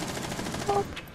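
Tachanka's mounted turret firing in Rainbow Six Siege, a rapid, steady stream of automatic gunfire under the game's ambient noise, with a brief louder burst near the end.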